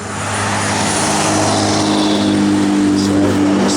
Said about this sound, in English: Again, X-pipe dual exhaust system. That sounds real good.